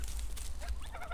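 A flock of three male geese and one female calls with a continuous run of honking and gobbling cries, fairly close and fairly quiet over a low steady background hum.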